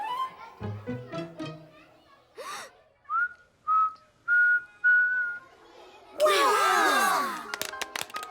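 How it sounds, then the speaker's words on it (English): A child whistles a series of short, clear rising and held notes after a brief spoken line, followed by a burst of cheering and excited children's voices in a classroom setting in a cartoon. "You learned to whistle."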